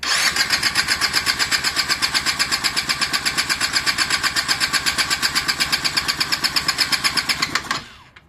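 Kick-started motorcycle engine with freshly welded parts and the airbox fitted, running in a loud, steady, rapid close-up chug with even pulsing beats for about seven seconds before cutting out abruptly.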